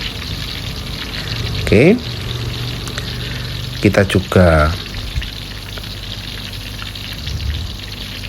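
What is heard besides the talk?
hot oil poured over tempe while deep-frying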